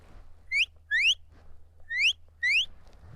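Four soft rising sheepdog command whistles in two pairs, clear and close over a low steady hum, with no talking.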